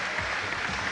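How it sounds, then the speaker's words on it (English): Brief burst of crowd applause for boxer Yves Monsieur in a cruiserweight bout against Johnny Nelson, a dense arena clatter at steady volume over a low crowd rumble. "And a nice round of applause"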